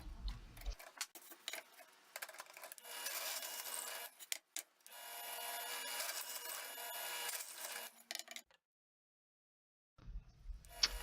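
Drilling a pilot hole for a T-nut in plywood, a steady close grinding rasp with short pauses, a near-silent gap near the end, then a brief resumption.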